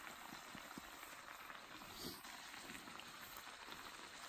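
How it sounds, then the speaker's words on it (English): Food deep frying in hot oil over a camp stove in a boreal forest, a faint continuous bubbling sizzle with a few soft crackles. "We're just deep frying it"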